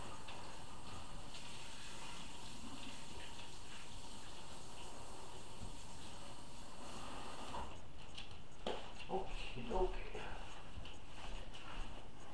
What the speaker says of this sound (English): I'll go rinse off my hands